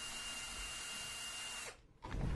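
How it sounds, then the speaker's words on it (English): A power drill whirs steadily at a constant high speed, driving a screw during assembly of a mixer proportioner. It stops abruptly near the end, followed by a brief handling clunk. "I use a drill because it's quicker"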